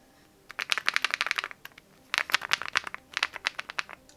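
An Epomaker Galaxy100 QMK/VIA mechanical keyboard typed in three quick bursts of crisp, close clicky keystrokes, with short pauses between the runs and no talking.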